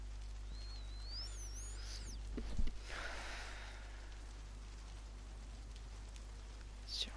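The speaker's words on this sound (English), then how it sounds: "It's a rainy day." Soft, steady rain falls in the video game DayZ, a faint hiss with occasional bird calls and a brief louder thump partway through.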